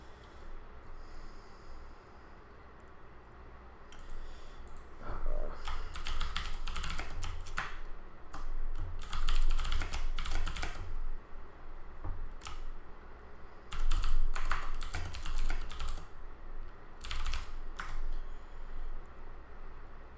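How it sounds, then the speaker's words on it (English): Typing on a computer keyboard during a late-night live stream, steady clattering bursts of keystrokes with short pauses, fairly close and moderately loud, with no talking. "if the typing is bad, I might figure out something for that later"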